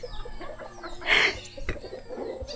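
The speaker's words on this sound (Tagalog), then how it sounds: "Pinapatakbo na yung mga manok." Chickens clucking close by on a Philippine farmyard, a few short clucks and one louder squawk over faint background noise, with no talk.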